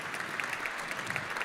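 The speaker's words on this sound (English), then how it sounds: "please give a round of applause for Marnie and Merle's family" Audience applauding steadily at a memorial service celebrating a woman's life, a dense continuous patter of many hands clapping at even volume throughout, with no voices over it.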